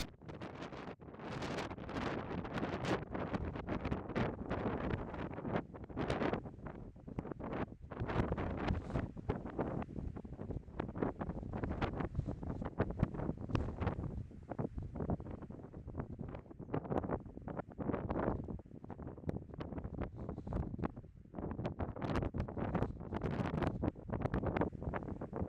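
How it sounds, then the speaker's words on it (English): Strong gusty wind buffets the microphone on an exposed hillside walk toward Kidsty Pike, a continuous loud roar with rushing surges and no talking. "it's a very windy day"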